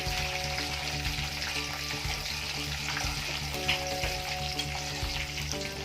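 Continuous crackling sizzle of spices and turmeric tempering in hot oil, close and steady, with faint hum underneath.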